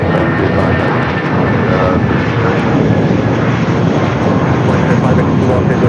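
A jet airliner powers up for takeoff on a runway at Los Angeles International Airport, a loud, steady engine roar that fills the whole clip, with no break and no one speaking.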